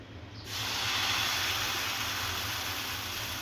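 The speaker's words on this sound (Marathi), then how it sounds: "मग बघू शकता बॅटर टाकत आहे मी." Dosa batter poured onto a hot oiled pan for a crisp masala dosa sets off a sudden loud sizzling hiss that starts abruptly and holds steady, with a low kitchen hum beneath.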